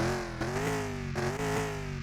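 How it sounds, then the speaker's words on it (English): In Car Mechanic Simulator, a Bruckell Moonhawk muscle car engine idles with a steady, close, loud rumble and a faint rhythmic lope to the tick over, with no voices. "That is a proper retro muscle car tick over."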